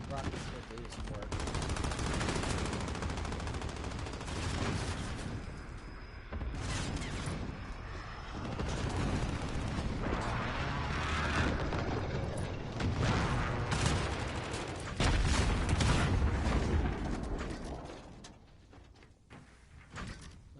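Gunfire and rocket launches in a Call of Duty: Modern Warfare match, with dense bursts of shots and heavy blasts going on continuously at close range for the whole stretch.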